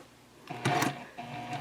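Sewing machine stitching fabric for an eco-friendly shopping bag at a 2.5 stitch length, a brief buzzing run of stitches starting after a quiet moment, pausing, then resuming.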